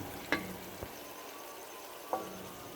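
A steady, quiet sizzle of spices frying in a pan as okra goes in, with a few sharp clinks and taps of a utensil against the pan over the hiss.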